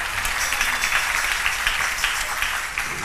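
A church audience claps together in a dense, steady patter of many hands, moderately loud and continuous for a few seconds.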